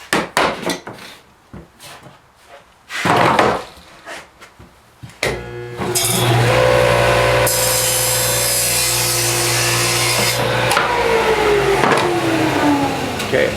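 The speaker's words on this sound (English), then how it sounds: "So now we're gonna cut that lip off because it's not necessary." Cutting the protruding wooden lip off a glued Deulen sharpener, first a series of uneven knocks and scraping strokes, then a power saw starting up and running loud and steady through the wood, near and continuous.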